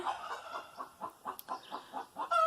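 A black and white Silkie hen with a crooked wry tail clucks softly in a steady rhythm of short, quiet pulses, ending with a slightly louder call.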